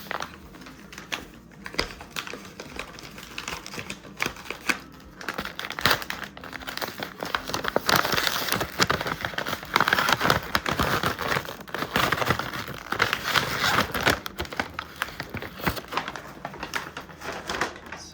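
A panettone's plastic wrap packaging, sealed with a wire, is handled up close, giving irregular crinkles and crackling rustles that grow denser and louder midway before easing off.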